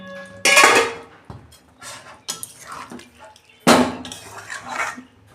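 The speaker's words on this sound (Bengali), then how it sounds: "দেখুন বন্ধুরা, ঢাকনা খুলছি।" Metal lid lifted and set down on a pan of spicy jackfruit and prawn curry, sharp clanks and scraping clatter in a few bursts, close and fairly loud, with quieter cookware rattles between.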